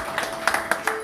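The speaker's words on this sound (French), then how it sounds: "Applaudissez un peu pour M." An audience applauding a man at a fourth-anniversary gathering in Brussels, with a few sharp claps standing out in a short, fairly faint burst.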